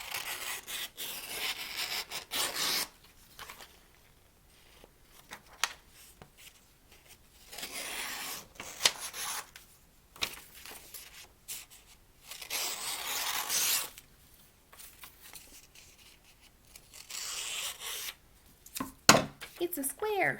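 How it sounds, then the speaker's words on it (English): Scissors snip and slide through paper to cut out tangram shapes, intermittent rasping bursts of a few seconds separated by quieter pauses, close up with occasional speech between cuts. "I need to now cut out the tanagram so that each one has its individual shapes."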